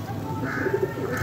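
Soft, low pigeon cooing from a purebred breeding pigeon, a few short murmuring coos in a quiet indoor setting with faint background noise.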